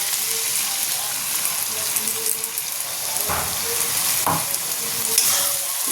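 Poppy seed paste frying in a pan with lightly browned onions, a loud continuous sizzle with occasional scraping stir strokes close by and no talking.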